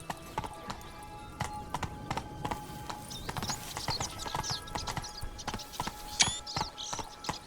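A horse gallops in The Witcher 3 video game, with quick, evenly spaced hoof clops thudding close by and a faint whinny and mechanical clinks mixed in.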